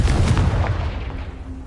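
A Confringo blasting spell explodes in a video game, a loud deep boom that rumbles and slowly fades over about two seconds, with no voices over it.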